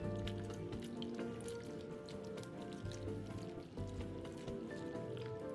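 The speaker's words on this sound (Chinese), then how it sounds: "取出腌渍了5分钟后的苦瓜，用清水清洗至少2遍" Bitter gourd pieces rinsed in clean water after salting, with steady dripping, splashing and squishing of wet vegetable handled close up, continuous throughout.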